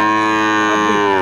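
A Sahiwal heifer calf gives one clear, close moo at a cattle market. The call is short and tonal, slightly falling, and nothing else is heard.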